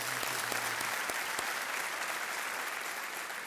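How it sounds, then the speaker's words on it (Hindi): Studio audience of the quiz show KBC applauding to welcome a contestant's family, dense sustained clapping from many hands that carries on evenly throughout. "स्वागत तालियों के साथ इनका"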